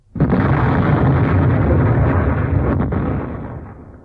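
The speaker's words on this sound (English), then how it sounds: "And there was a terrible explosion." Bomb explosion sound effect in an audio story, a single loud, sudden blast that erupts into a long rumbling roar and slowly fades over several seconds, with no talk.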